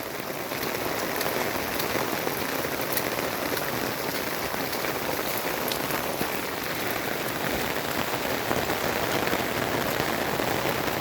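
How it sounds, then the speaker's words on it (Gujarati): Heavy rain pours steadily over flooded village fields, a dense, even hiss of drops striking water and ground that stays loud and unbroken throughout. "બહુ ધોધમાર વરસાદ પડી રહ્યો"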